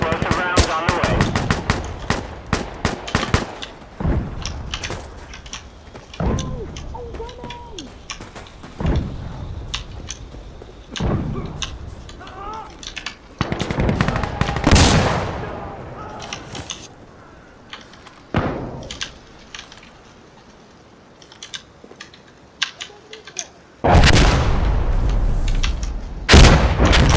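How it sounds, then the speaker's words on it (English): An artillery barrage of explosive rounds lands in the game Insurgency Sandstorm. Heavy booms and blasts arrive one after another with gunfire rattling in between, some impacts close and loud and others more distant. "Explosive rounds on the way."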